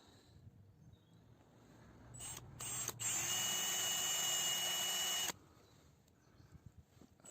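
A small 2.5 mm drill bit bores into the housing of a Toyota Prius ABS pump motor, a close, high electric whine that starts with short bursts and then runs steadily for a few seconds before stopping, with no talk.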